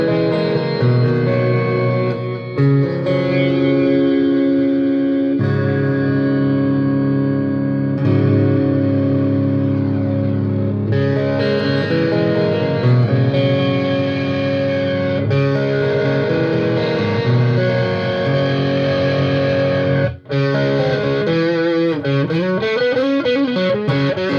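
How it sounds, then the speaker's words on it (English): An electric guitar played through clean delay and distortion effects: sustained, heavily distorted chords with lingering repeats, loud and continuous, shifting tones near the end. "We've got clean delay and distortion there."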